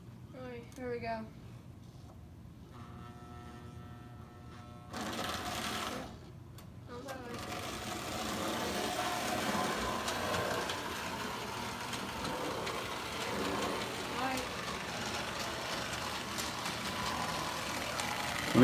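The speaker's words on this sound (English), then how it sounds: "we're going to go ahead and run a train around the track for a quick test" A Marx 666 model train engine runs around the track with a steady mechanical whirring hum that builds in loudness after a few seconds and continues to the end; speech is heard in the background.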